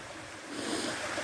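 A small garden stream runs steadily near a waterfall, its broadband rushing flow holding constant and swelling slightly louder partway through, with no voices.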